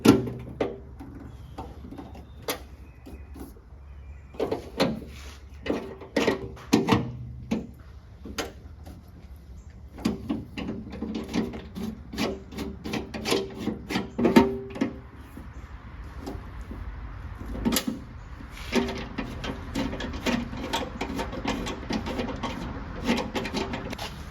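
A hand rivet nut tool squeezes M6 nut inserts into drilled holes in the tailgate metal of a late-1990s Honda CR-V, producing scattered close clicks, scrapes and metallic taps over a quiet background.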